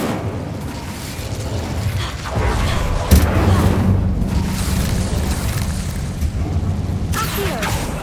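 An Incendio fire spell cast in the video game Hogwarts Legacy, giving a loud whooshing burst of flame over a steady rumbling roar of battle effects that lasts throughout.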